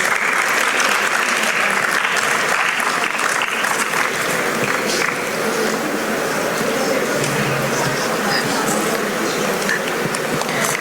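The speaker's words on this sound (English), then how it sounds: "Let us give them a big round of applause." An audience at a college valedictory ceremony gives competition winners a sustained round of applause, a dense, loud, continuous clapping that fills the whole stretch.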